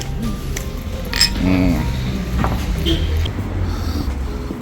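Glasses clink together in a toast at a shared meal in Morocco, bright chinks briefly rising over a busy background of voices and table noise.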